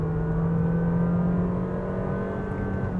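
A Honda City Hatchback 1.5 V with an i-VTEC engine accelerates steadily to overtake on a road in Langkawi, a sustained engine drone heard from inside the cabin with road noise beneath, no talk.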